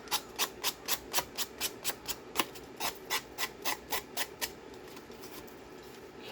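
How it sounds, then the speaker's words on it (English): Sandpaper rubbed over a paper tab in its crease while decoupaging, heard as a quick series of about fifteen close, dry rasping strokes in a steady rhythm that then stops, leaving a faint room hiss. "I'm sorry for those of you who don't like the sandpaper noise"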